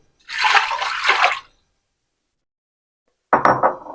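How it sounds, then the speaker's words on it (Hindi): Water pours into a pressure cooker of soaked chana dal in two short bursts, a splashing rush of about a second, then silence, then another brief pour, close and clear. "तो अब इसमें ऐड करूंगा एक बोल पानी।"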